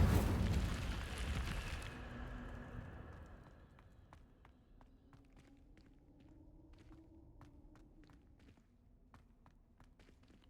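The Incendio fire spell in Hogwarts Legacy bursts out as a loud roaring whoosh of flame for about two seconds, then fades into quiet ambience with light footsteps ticking along.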